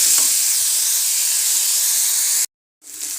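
Onions frying in a pan for a soybean dish, giving off a loud, dense hiss of sizzling oil close up that cuts off abruptly into a brief silence before resuming, with no speech.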